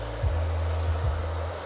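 A hair dryer fitted with a diffuser blows steadily up close while drying short curly hair, its loud constant whoosh wavering in pitch a few times as it moves.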